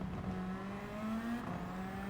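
A Toyota Supra race car engine in Gran Turismo 7 holds a sustained, buzzing, high-revving drone with slight pitch shifts as it runs steadily through a race, with no other voices.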